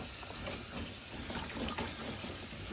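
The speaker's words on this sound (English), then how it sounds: "give them a good rinse," Green beans are rinsed under a steady, close stream of tap water that runs continuously into a sink, splashing and gurgling with no voices.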